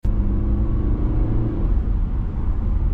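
BMW 320d G20 sedan driving in sport mode, a steady low engine and road rumble heard from inside the cabin, continuous and fairly loud with no talk.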